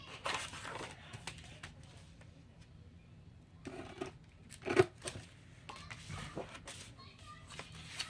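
Scissors snip intermittently in short crisp cuts, with quiet handling and rustling between them and a voice speaking at times.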